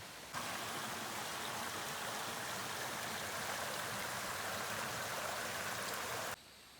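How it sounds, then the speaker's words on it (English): A creek runs near a campsite on the Adams Gap Loop, giving off a steady, even rush of flowing water at moderate level that carries on without a break before cutting off abruptly near the end. "There's a creek right down there."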